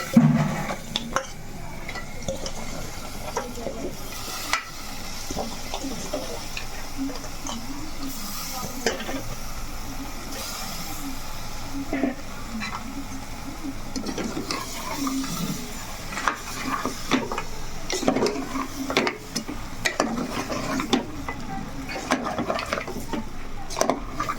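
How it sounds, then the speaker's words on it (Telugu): Curry being stirred with a ladle in a pan, scraped from bottom to top after milk is added to fried fish-and-vegetable masala; intermittent scraping and clinks over a soft sizzle, close by, with occasional talk. "బాగా ఇలా కలిపేసుకోవాలి ఇలా కింద నుంచి పైదాకా గరిటి పెట్టి కలుపుకుందామండి"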